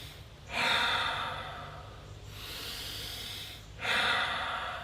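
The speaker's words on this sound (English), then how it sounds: "Breathe in and out. That's it. Big breaths." Deep, deliberate breaths during a shoulder resistance workout: two long, loud inhale-exhale cycles close to the microphone, with a quieter breath between them and no talking.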